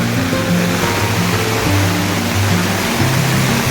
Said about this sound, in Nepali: यतिकै पानी परिरहेछ कि गाइस यत्रो झरिरहेछ